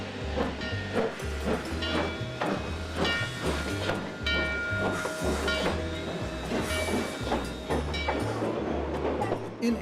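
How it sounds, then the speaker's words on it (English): A narrow gauge train on the Durango and Silverton line in the Rocky Mountains rolls steadily with rhythmic wheel clatter on the rails, a low pulsing rumble and a soft hiss of steam, heard from on board. "The train has been renamed the Durango and Silverton Narrow Gauge Railroad"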